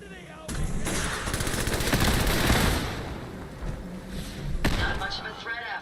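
A modded gun fires in Fallout 4 in a loud sustained burst of rapid shots, followed by a pause and then another sharp burst, with a voice talking faintly underneath.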